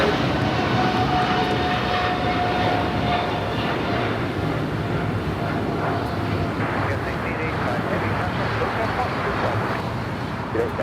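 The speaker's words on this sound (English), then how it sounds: "This is the flight heading to Hong Kong, flight 886." A Hong Kong-bound airliner, flight 886, rumbles steadily at LAX with a broad, continuous roar that holds for the whole stretch at moderate distance.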